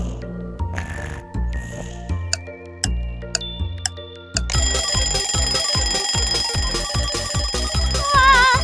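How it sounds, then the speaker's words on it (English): A cartoon alarm clock rings in a bright, continuous electronic trill over bouncy animated music, with sustained tonal ringing in the second half and no talking. "A peaceful morning begins with the usual battle between Bluey and the alarm clock."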